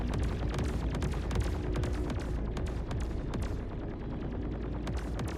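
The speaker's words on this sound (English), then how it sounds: "Shoot those top turrets off." Continuous gunfire from ship turrets in Star Citizen, a dense, loud barrage of rapid overlapping shots and booming impacts with no pause, close and heavy throughout.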